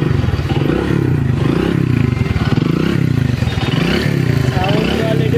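A used motorcycle for sale at a bike shop runs close by with a steady, rumbling idle and some rattling, while someone talks loudly over the engine.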